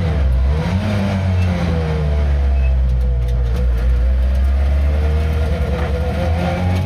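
Lancia Rally 037 Group B restomod engine revving loudly on a public road, a deep continuous roar with rising and falling pitch as it climbs through the revs, close and steady throughout.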